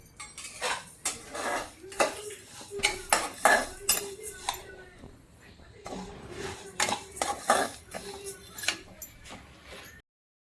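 Lentils being dry roasted in a pan for homemade baby cereal, a spoon scraping and clinking against the metal in quick repeated strokes, loud and close, pausing briefly midway.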